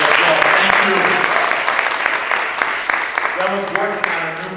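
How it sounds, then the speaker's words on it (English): Audience applause at a City of Paterson employee appreciation day event, a dense, loud wash of clapping that holds steady and slowly tapers, with murmured voices and cheers mixed underneath. "let's give her a rousing round of applause"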